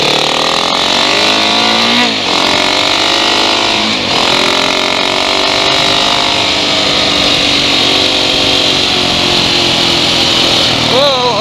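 A motorcycle fitted with a Tubliss tire system rides along with a loud, continuous engine drone, pitch rising and falling slightly as it shifts and accelerates, close to the rider, with wind noise.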